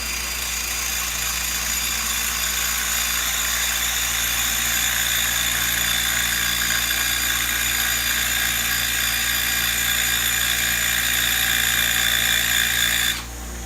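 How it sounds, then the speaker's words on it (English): A bench grinder runs at full speed while sharpening a tungsten welding electrode, giving a steady, loud, high-pitched whine that cuts off abruptly just before the end. "So then you just turn the grinder on, and you want to be at the maximum speed that your grinder goes."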